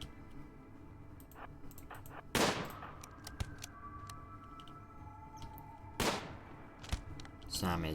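Gunfire aimed at raiders in the Rimworld video game, a few sharp shots and clicks spaced across several seconds, two louder bursts standing out, with game sounds and a voice talking over them.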